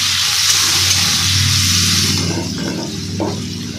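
Potatoes fry in a pan for a spicy morola fish curry, giving a steady, fairly loud sizzle that eases slightly near the end, with a few soft stirring knocks.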